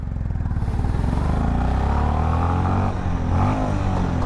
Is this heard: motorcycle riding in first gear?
yes